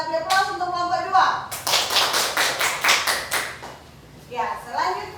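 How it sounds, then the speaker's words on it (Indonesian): A short burst of applause for discussion group 2, a room of hands clapping fairly close for about two seconds, with a voice speaking just before and after. "Kita beri aplaus untuk kelompok 2."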